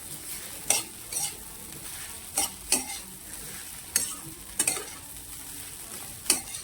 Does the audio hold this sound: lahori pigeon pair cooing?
no